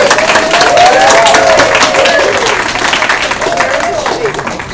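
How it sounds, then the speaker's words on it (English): A community meeting audience applauds and cheers for a departing staff member, producing sustained loud clapping with raised voices and whoops mixed throughout, tapering slightly toward the end. "can we give a cheer to Shantae, who's going to be gone for a little bit?"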